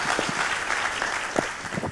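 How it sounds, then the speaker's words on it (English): Audience applause greets a university's Vice President and Dean of Research and Development at a conference opening ceremony, a steady wash of clapping from a crowd for about two seconds. "Give him a big round of applause."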